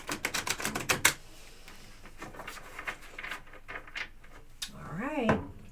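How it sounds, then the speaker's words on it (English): Tarot cards shuffled in a quick burst of soft riffling clicks, close and fairly quiet, followed by a few scattered card taps, with a voice briefly heard near the end. "One more shuffle for you."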